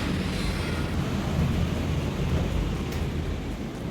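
A thunderstorm with strong wind rages outside a home during a power blackout: a loud, dense, continuous roar of wind and rumbling that fills the whole stretch with no talking.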